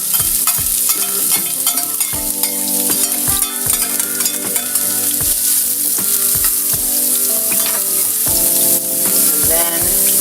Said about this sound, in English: I'm going to put in my garlic and my onion first